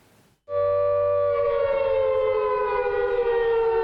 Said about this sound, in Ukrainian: Повітряна тривога ставить на паузу роботу сервісних центрів.